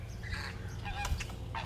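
Flamingos at the Phoenix Zoo calling before a morning walk: several nasal, goose-like honks from a flock, close and fairly loud, overlapping in an irregular chorus.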